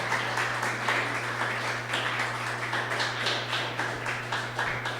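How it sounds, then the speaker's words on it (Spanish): A church congregation gives a round of applause during a sermon, steady clapping over a constant low electrical hum, fairly close and even throughout. "Denle una ofrenda de aplausos al Señor"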